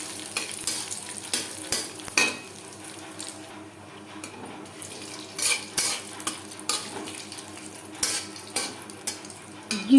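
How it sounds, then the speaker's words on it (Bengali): Bay leaf and whole cumin fry in refined oil for a fish curry, a soft sizzle under repeated metal utensil scrapes and taps against the pan. "তেজপাতা পনেরো কুড়ি সেকেন্ড ভেজে নেওয়ার পর"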